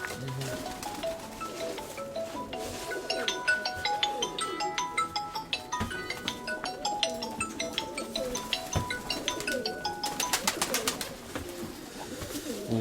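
Birds call repeatedly among a busy mix of chirps, tones and clatter, with pigeon-like cooing sounds recurring throughout at moderate volume.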